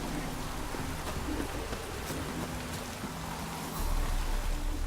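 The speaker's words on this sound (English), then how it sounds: "Rain doesn't bother you, it seems." Steady rain falls in the video game The Witcher 3, a soft continuous hiss with faint low rumbles underneath, and the downpour swells slightly near the end.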